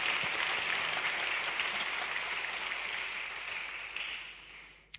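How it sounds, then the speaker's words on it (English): An audience applauds at a NATO news conference with the Dutch prime minister, a dense, steady wash of clapping that holds for several seconds before thinning out and stopping. "you might give an applause"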